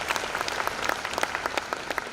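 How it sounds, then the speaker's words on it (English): Applause from a workshop audience fills the room with dense, steady clapping from many hands, with a few sharper claps standing out, continuing throughout without talk. "again a round of applause for the"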